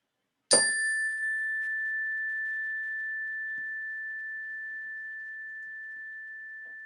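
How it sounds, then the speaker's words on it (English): A single meditation bell struck once, a clear bright ring that sustains and slowly fades over several seconds in otherwise quiet surroundings. "Take a deep breath in. Listen to the bell."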